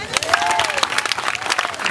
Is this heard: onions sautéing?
no